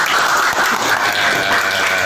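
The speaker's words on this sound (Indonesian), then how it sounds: "Oke, tepuk tangan untuk teman kita." Classmates applauding in a school classroom during a lesson, a dense burst of steady clapping close by, loud and sustained for about two seconds.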